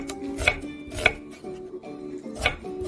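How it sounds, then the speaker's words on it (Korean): A knife cuts an onion into thin slices on a cutting board, producing several distinct, close chopping thuds at an uneven pace. "부추와 어우러지도록 두껍지 않게 썰어주겠습니다."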